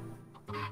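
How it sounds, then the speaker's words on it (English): Chickens in the video game Minecraft give a brief, quiet cluck over a steady low game hum, a short burst of clucking near the end. "Chickens!"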